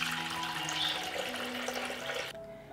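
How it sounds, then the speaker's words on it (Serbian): Cold water is poured into a 6-litre pressure cooker as a steady, close pour lasting about two seconds, then it cuts off abruptly. "sipat ću u njega litar hladne vode"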